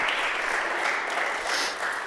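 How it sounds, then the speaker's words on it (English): Dense, even applause from an audience at an Oklahoma criminal justice reform event, a continuous wash of many hands with no single claps standing out. "We can clap about that."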